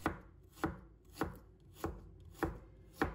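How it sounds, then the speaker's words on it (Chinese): Knife chopping fresh ginger into slices on a cutting board, six crisp evenly spaced chops about 0.6 seconds apart, close and clear with no talking. "准备一块生姜，把它切成片"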